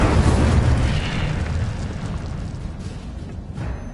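The Incendio fire spell bursts in Hogwarts Legacy, a loud, close, roaring whoosh of flame that swells at once and then rumbles on in a broad, sustained blast.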